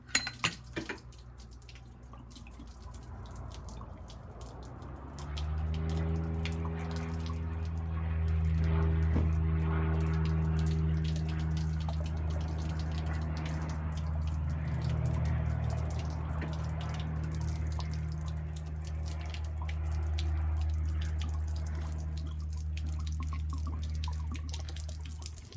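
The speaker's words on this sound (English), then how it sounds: "We'll go ahead and turn this over and let this water drain out over here." Water drains out of a turned-over Caterpillar Marine 3208 exhaust manifold during a pressure test. Soft trickling and dripping sit under a steady low hum that starts a few seconds in and continues throughout, with no speech.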